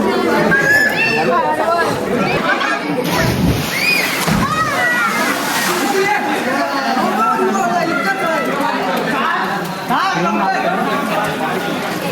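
Water splashing and sloshing near the microphone in a cold temple pond, mixed with steady chatter from several people talking nearby.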